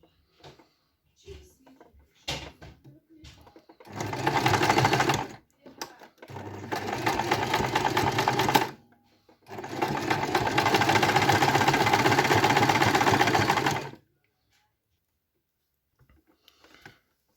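A domestic sewing machine stitches a fleece buff hat in two long, steady bursts after a few short starts, close and loud with brief pauses between runs.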